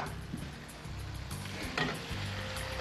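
Prawns with marinade added to a hot pan of chili garlic sauce, giving a brief, steady close sizzle with a couple of light clinks of utensils, no talking.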